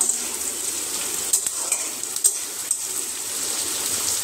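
Constant sizzling of chopped onions frying in hot oil, with a few sharp crackles and pops rising over the steady hiss.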